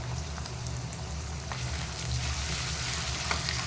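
Peanuts fry in hot oil with green chilli paste, cloves and star anise, making a steady, close, dense sizzle with faint crackles throughout.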